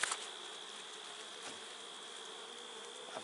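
Honey bees buzzing at an open hive, a dense steady drone of many bees close by, with a few individual bees passing louder near the microphone.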